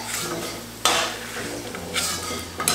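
Fried corn flakes being lifted out of hot oil in a pan, with scraping and metallic clinks of a utensil against the pan over a soft sizzle, plus a couple of sharper knocks.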